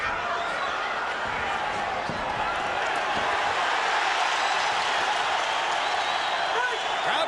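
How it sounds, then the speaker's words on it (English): A boxing arena crowd roars throughout the Pacquiao vs Barrera fight, a dense, loud, steady wash of cheering that swells slightly toward the end. "Crowd comes alive as Barrera,"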